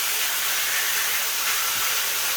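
Jamaican brown stew chicken cooking in browning sauce in a pot, a steady, even steamy hiss running loud and unbroken throughout.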